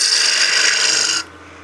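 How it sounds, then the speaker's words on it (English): A 1-inch skew chisel takes a peeling cut on a wood lathe, making a loud, bright, continuous hiss-like scrape for about a second before stopping abruptly to a low hum. "I'm going to go back to our 1-inch skew and just do some peels just to get rid of some of this excess material"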